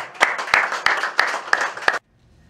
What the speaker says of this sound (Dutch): Dus ik wil nogmaals een applaus voor de Pansa Group of Companies.